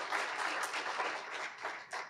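Audience applause at a Lake Wales community symposium, a room full of clapping that swells, then thins into scattered claps with a brief last burst, heard at moderate distance with no talk.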